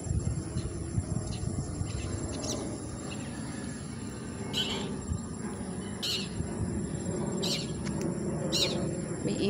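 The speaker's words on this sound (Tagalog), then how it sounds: "Narinig yung ibon mga kalalabs ko." Birds calling outdoors among garden plants: faint, scattered chirps over a steady background buzz of insects, heard from some distance in a quiet setting.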